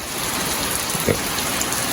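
Heavy rain falls steadily as a dense, even hiss across the whole clip, with a few faint thuds and drips standing out briefly near the middle and no voices.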